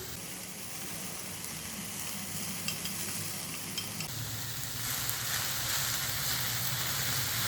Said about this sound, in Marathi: परतून घ्यायचं आहे आणि थोडीशी होऊ द्यायची मेथी वाफवली जाऊ द्यायची